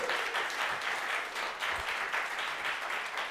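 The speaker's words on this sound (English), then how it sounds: "please give him a round of applause" An audience at a water-education event applauds a guest speaker, CNN's chief climate correspondent, with dense, even clapping that stays steady throughout, a continuous roomy wash at moderate distance.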